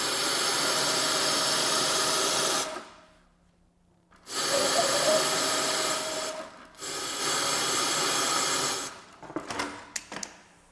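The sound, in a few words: sewing machine stitching a fabric dart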